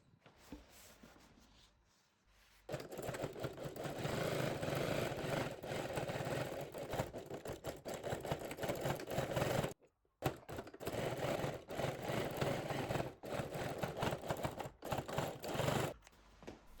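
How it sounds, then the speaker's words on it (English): A sewing machine hums in long steady runs as it stitches bias tape onto a quilted tote bag. There is a brief pause partway through, and the sound is fairly close but quiet. "sew with 1 or 2 millimeter seam allowance right on top of the bias tape, securing the bias tape in a place"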